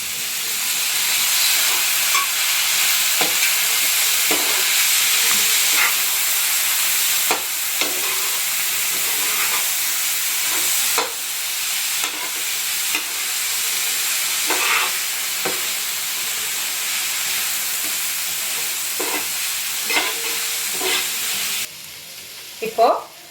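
Vegetables for spring roll filling sautéing in a pan, a loud continuous sizzle and hiss with repeated stirring scrapes and knocks throughout, close up, ending with a brief clatter.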